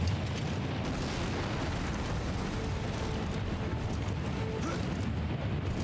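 Gum grenade explosions in the video game Lost Planet: Extreme Condition, a dense, continuous rumbling blast with steady loud low-end roar throughout, no distinct separate pops.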